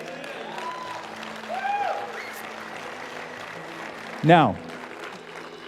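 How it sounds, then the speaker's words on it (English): Audience applause fills a sermon hall, a steady wash of clapping with scattered whistles and a cheer, and a voice briefly cuts in near the end. "I can tell by the applause that most of y'all here are saved."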